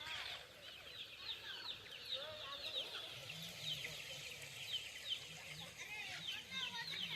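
Chickens cluck and call repeatedly at a family party, a steady scatter of hen sounds over faint background murmur.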